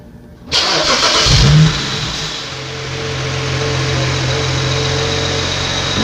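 A BMW 335xi engine cranks and catches with a loud start-up flare, then drops to a steady, even idle that runs on alone.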